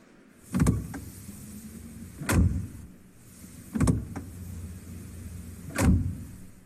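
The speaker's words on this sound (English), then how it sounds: "Interior car door slams, which means they were recorded from inside the car." Four heavy interior car door slams recorded from inside the vehicle, unprocessed, each a loud dull thump with a short rattle, spaced about every one and a half seconds with quiet cabin hiss between.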